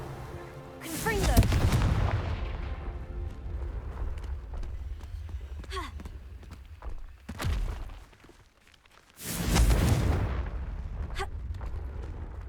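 Confringo blasting spells explode in Hogwarts Legacy: three loud, booming blasts that crack sharply and then rumble away, separated by stretches of low game ambience.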